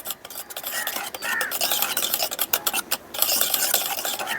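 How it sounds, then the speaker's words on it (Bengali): Dhokla batter with baking powder being stirred and beaten in a bowl, a continuous scraping, rasping churn with rhythmic strokes, close and steady throughout with no talking. "আমি একইভাবে কিন্তু ঘোরাচ্ছি, ফ্যাটটা করছি।"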